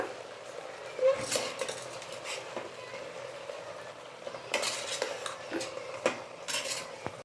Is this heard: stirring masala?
yes